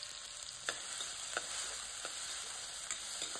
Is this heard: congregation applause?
no